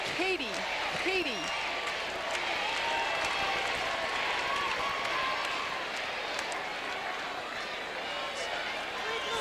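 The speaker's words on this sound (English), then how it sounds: "And the crowd is chanting, Katie, Katie." Arena crowd at a 1998 WNBA/ABL finals basketball game between the Long Beach Stingrays and Columbus Quest chants a player's name in a steady roar, with a commentator talking over it and a few sneaker squeaks.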